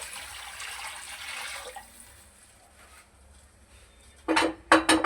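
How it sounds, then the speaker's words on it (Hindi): Water poured into a pot of masoor dal with lauki on the stove, a soft running splash that fades, followed by a few sharp clanks of utensils against the pot. "अब मैं शामिल कर रहा हूँ इसके अंदर सबसे पहले पानी"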